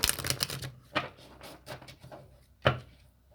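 Tarot cards are shuffled and handled up close, with a fluttering riffle at the start followed by a few scattered soft slaps and taps as cards are set down.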